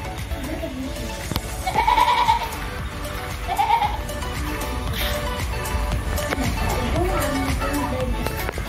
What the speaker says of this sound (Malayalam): ഇതാണ് ആട്ടുംകൂട്.